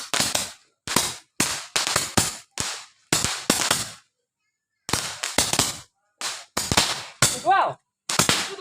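Firecrackers burst on New Year's Eve in a string of sharp, loud nearby bangs, most in quick pairs or short clusters, with a brief quiet gap midway and one whistling crackle near the end.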